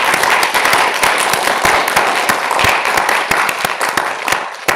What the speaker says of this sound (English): Can we please give our sports officer candidates a massive round of applause?